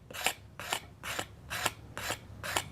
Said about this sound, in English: use a scraper blade